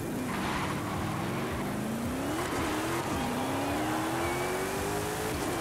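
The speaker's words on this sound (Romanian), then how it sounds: "Da, acum accelerează." Luxury SUV accelerating hard at high speed, a steady engine drone rising slowly in pitch over strong road and wind roar, with no talk.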